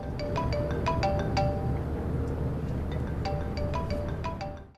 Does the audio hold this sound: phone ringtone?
yes